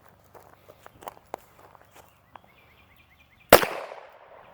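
.22 rimfire shotshell fired at a target from 3 yards: one sharp close gunshot crack with a short decaying echo, preceded by quiet shuffling and handling noises.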